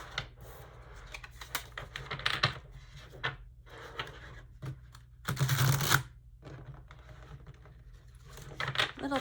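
Long, narrow tarot cards being shuffled by hand in several bursts of riffling, soft slapping, close and quiet, with short pauses between the shuffles.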